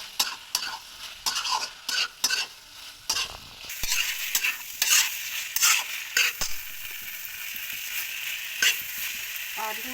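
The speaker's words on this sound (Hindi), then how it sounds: "कितनी मस्त भुन जा रही है मेरी सब्ज़ी" Vegetable curry with tomatoes sautés in oil, a steady sizzle broken by repeated sharp scrapes and clinks of a spoon stirring against the pan, close and fairly loud.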